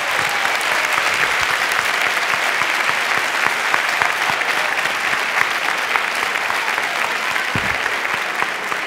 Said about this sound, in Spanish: el aplauso fuerte también para ellos